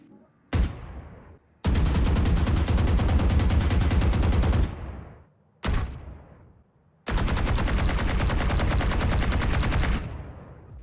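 Rapid automatic gunfire from the RGX 11Z Pro Vandal and the default Vandal rifle in Valorant, heard as two short taps followed by two long sustained bursts, loud and close, with no talk.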